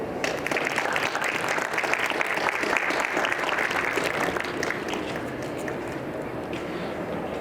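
Sustained applause from an audience at a Medical Expo award presentation, a dense, steady wall of clapping that runs the whole stretch, loud throughout and easing slightly near the end.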